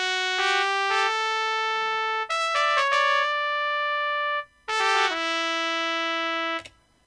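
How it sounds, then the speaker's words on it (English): A MIDI trumpet solo in Mixcraft 7 with heavily overlapping notes, a synthetic brassy line of sustained tones that bleed into one another in three phrases separated by short gaps, heard alone. "Here I've played a trumpet solo, and you can see right here, notes are overlapping a lot, and it sounds like this."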